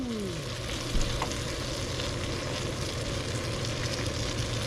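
Raw meat sizzles steadily on a camping stove, a dense, even frying hiss that stays close and constant throughout, with no talking.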